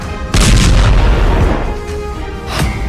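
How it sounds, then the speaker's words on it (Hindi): Israeli strike near Damascus, Syria: a loud, close blast that erupts suddenly and rolls on as a long rumbling roar, then a second burst swells near the end. No one speaks. "धमाके का दूसरा वीडियो,"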